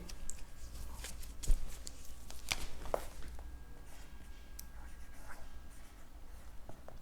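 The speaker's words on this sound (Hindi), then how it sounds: "मैं यहां पे लिख देता हूं, लाइट की डेफिनेशन सबसे पहले लिखता हूं" Marker or chalk strokes on a classroom board during a physics lecture on light: faint, scratchy taps and short scrapes at irregular intervals over a quiet room hum, with no talking.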